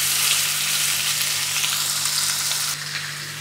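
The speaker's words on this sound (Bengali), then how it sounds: "এবার মাংসটা 2 থেকে 3 মিনিট কষিয়ে নেব। গ্যাসের ফ্লেমটা হাই করা আছে।" Mutton pieces fry with spices in a pan over a high gas flame, giving a loud, continuous sizzle that drops slightly near the end, with a low steady hum beneath.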